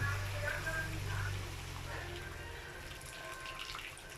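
Water pours steadily into a cooking pot of pork with sotanghon and sayote, a continuous splashing gush that slowly softens as the pot fills, with voices in the background.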